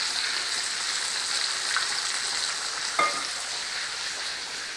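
Breaded pork sizzles steadily in a frying pan, a dense continuous crackle from water in the meat, with a brief louder spit partway through and no talking.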